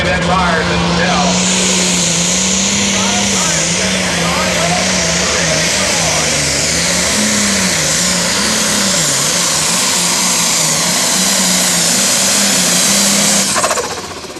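A super/pro stock pulling tractor roars down the track at a nostalgia tractor pull, a loud sustained engine drone wavering in pitch for the whole pass while an announcer talks over it.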